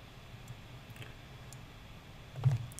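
Faint, sharp computer mouse clicks tick at a steady pace over a quiet room hiss, ending in a slightly louder quick double click near the end.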